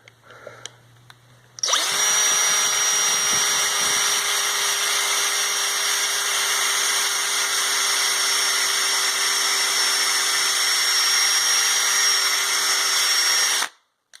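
A power drill drives a screw into wood, a loud, sustained high-pitched whir held close for about twelve seconds, preceded by faint handling noise and cut off sharply.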